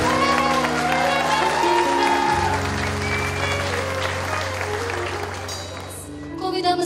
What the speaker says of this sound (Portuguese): Peço a todos uma salva de palmas para a turma A.